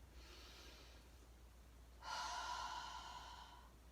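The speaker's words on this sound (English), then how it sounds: "So you breathe in through your nose, big deep breath." A single deep inhale through the nose, drawn in slowly and close by, then held without any talking.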